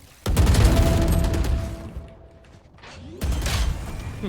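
Valorant video game gunfire: a rapid burst of shots rattles out, fades into a quieter lull, then a second burst of shots follows, loud and close.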